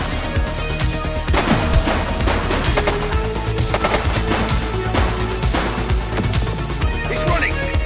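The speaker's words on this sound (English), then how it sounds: "He's shooting!" Rapid gunfire in the police video game The Precinct, dense bursts of shots cracking continuously over a loud, busy mix of game sound with a voice mixed in.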